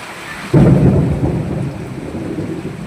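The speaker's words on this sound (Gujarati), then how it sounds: "કડાકા ભડાકા સાથે વરસાદ" A loud crash of thunder bursts out and rumbles on during the first monsoon rain in a village, with steady rain pouring in the background.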